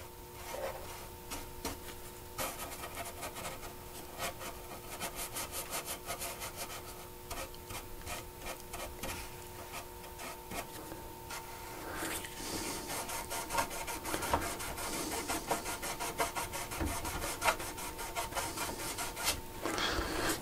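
Fingers rubbing nitrate dope into aircraft wing fabric during a biplane re-cover, a close, continuous soft scrubbing and rasping that grows somewhat busier toward the end, with a faint steady hum underneath.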